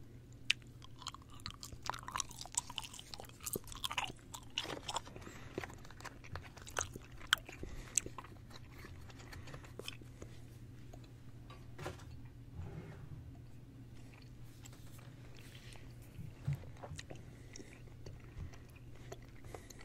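Gum is chewed close up in a quiet room, a soft continuous run of wet smacks and small clicks over a low steady hum, with no talking.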